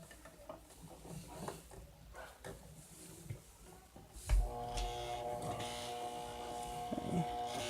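A sewing machine stitching a stuffed bear starts up partway through, a steady close mechanical whir following quieter handling noises.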